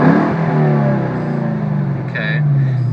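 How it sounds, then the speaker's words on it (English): A car engine revving while an air/fuel ratio gauge is checked, a loud close rising and falling drone under continuous talk. "As you rev the engine up"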